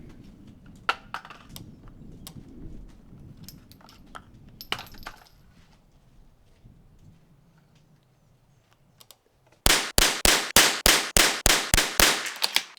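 A Bergara B14R rimfire rifle fires a rapid string of about ten sharp, loud shots at a steady quick rhythm, preceded by quieter handling and shuffling noises at the range.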